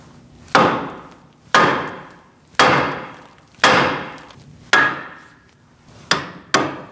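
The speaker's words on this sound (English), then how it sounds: "Using a sledgehammer, you're going to give it a whack right here, and it's going to release the tie rod." Sledgehammer blows strike a steering knuckle to free the tie rod on a 2002-2006 Toyota Camry, seven sharp metallic whacks spaced roughly a second apart, the last two quicker, each ringing briefly before fading.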